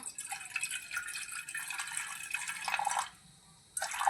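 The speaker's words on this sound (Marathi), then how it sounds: "गॅसवर ठेवला एक टोप त्याच्यात थोडंसं पाणी टाकूया आपण" Water poured from a vessel into a pot on a gas stove, a continuous trickling splash with a brief pause before the pour resumes, fairly soft and close, with no talk.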